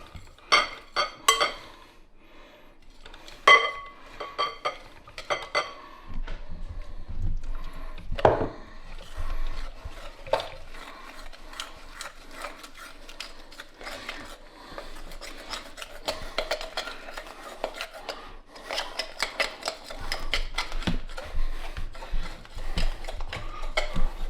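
Whey isolate protein powder stirred by hand into a thick paste, giving a steady run of gritty scraping and rasping strokes at close range, with a few sharper knocks early on and no talking.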